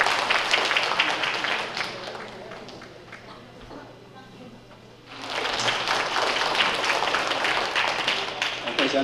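An audience claps to welcome an arriving official at a Taiwanese elders' Double Ninth Festival gathering in Northern California. The applause runs as a dense, steady patter, eases in the middle, then swells again, with voices mixed in.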